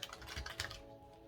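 A brisk riffle of tarot cards fluttering and snapping for about a second, close and fairly quiet, with no talking.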